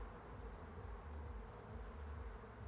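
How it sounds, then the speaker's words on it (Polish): Honey bees crawl and hum inside an open hive during an inspection after a week of formic acid gel treatment, a faint, continuous buzzing drone with no voices. "są pszczoły te, które widać chodzące"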